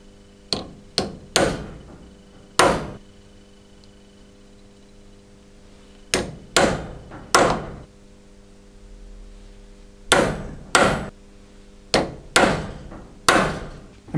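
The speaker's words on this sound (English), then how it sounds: "Now with the center punch, I'm going to transfer all of these holes into the aluminum piece." A center punch struck with a hammer against an aluminum workpiece, marking hole positions. Sharp metallic taps come in small clusters of two to four with pauses between, close and clear over a steady low mains hum.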